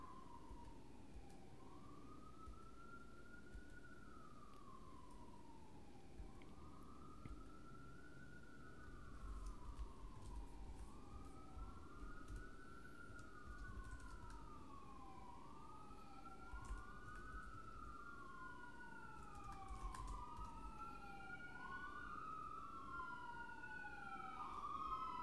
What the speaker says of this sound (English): Sirens going by.